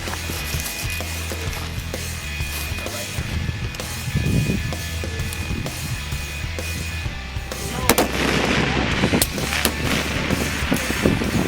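Sniper rifle shots in an international sniper contest, fired in four-round strings at 2-, 4- and 6-inch targets, come as sharp reports over steady outdoor background noise, with a denser run of sharp cracks near the end.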